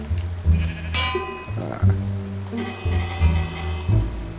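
Several bleats from a water sheep in Minecraft, loud and close, come in short repeated calls with brief gaps between them, with no voices.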